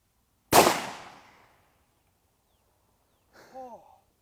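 A single sharp gunshot from a bottom-cylinder revolver, loud and close, with a decaying roar, followed a few seconds later by brief voices.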